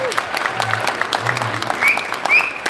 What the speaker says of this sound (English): Can we get a round of applause for it?